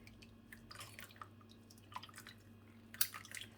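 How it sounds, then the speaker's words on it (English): A gloved hand squeezes excess water out of wet, freshly hand-dyed yarn. The result is soft, faint squishes and drips that come in scattered bursts, with one sharper wet squelch near the end. "I need my glove to squish excess water out."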